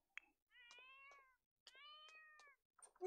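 Two drawn-out, tonal cat meows from a video game, each lasting close to a second, loud and near, with a short chirp before them and a rustle at the end; no talking.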